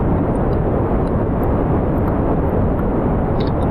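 Steady broadband roar of a rocket engine held at half throttle in Kerbal Space Program, a loud continuous rumble with no variation in rhythm and no talking.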